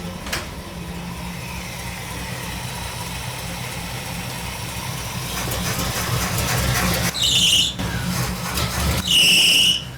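A 1959 Pontiac's engine idles with a rough, low rumble, then is brought up slightly to a fuller, louder drone, with sharp high squeals breaking in near the end.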